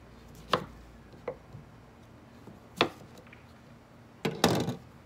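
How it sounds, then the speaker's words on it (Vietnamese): A knife cuts through lemons on a cutting board as salmon salad is made, giving a few separate sharp chops spread across the stretch, with a tighter cluster of cuts near the end, close and fairly quiet. "mình xắt chanh nha"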